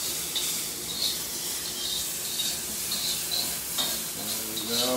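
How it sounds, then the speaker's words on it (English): Bacon renders in a hot pan with a steady, bright crackling sizzle, moderately close and continuous, with occasional soft stirring sounds and no talking. "So we're going to get this bacon to render."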